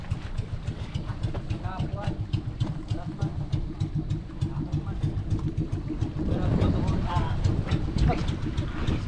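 A loud, steady boat engine drones throughout, growing heavier and rougher near the end, with voices talking over it.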